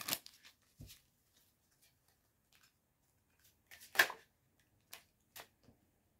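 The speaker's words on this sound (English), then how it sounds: "I did shuffle these well. Do it one more time." A deck of oracle cards is shuffled by hand, quiet isolated riffles and flicks in short bursts with near silence between them.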